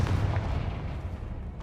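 A Confringo fire spell explodes in Hogwarts Legacy, a loud, close, rumbling blast that sustains as a dense low roar for its short length with no talk over it.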